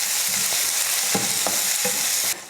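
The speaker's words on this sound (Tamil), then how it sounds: "இப்போ இதை வதக்கிடலாம்." Onion and dried red chillies sautéed in hot oil with cumin, a continuous close sizzle broken by several sharp scrapes and stirs of a spoon against the pan, no voices.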